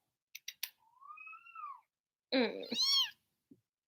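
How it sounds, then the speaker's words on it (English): A kitten gives a drawn-out pleading meow, then a louder, more urgent cry, both close and clear, with a few small clicks before and a brief murmured word from a person. "hate when he does like those desperate meows"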